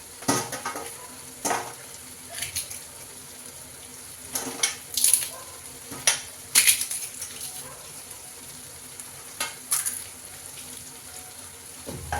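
A spoon stirring street-style peas chaat in a pan, making intermittent scraping and clinking strokes over a faint low sizzle, with short quiet gaps between the strokes and some talking in the background.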